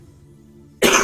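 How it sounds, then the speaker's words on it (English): A single sharp cough bursts out close to the microphone after a quiet stretch of low background hum. "Excuse me, I need to cough."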